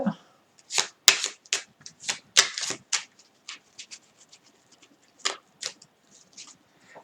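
A deck of 54 playing cards is shuffled close up in quick riffling bursts and slaps, a rapid run of crisp papery snaps followed by scattered softer flicks.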